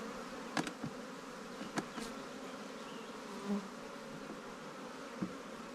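Honey bees in a newly set up hive with five frames, a steady low buzzing drone throughout, fairly faint, with a few brief closer buzzes and clicks and no voices.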